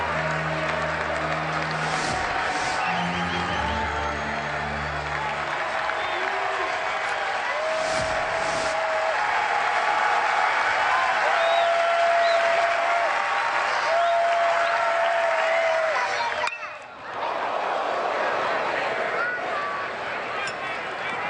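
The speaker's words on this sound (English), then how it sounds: "Texas crowd hanging on every pitch" Dense crowd noise at a sold-out Texas Longhorns college baseball Super Regional game against Tennessee Tech, a steady roar with clapping and cheering that swells and fades, with talk on top throughout.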